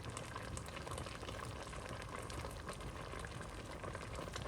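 Sambar with crushed garlic, tomato and onion boiling in a pot in a home kitchen in Dubai: a steady, faint bubbling simmer with dense soft pops, close and continuous.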